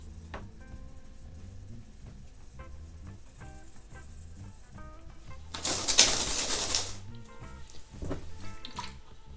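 A single short burst of hissing spray from a spray bottle misting onion seedlings, loud and close, rising out of quieter background sounds.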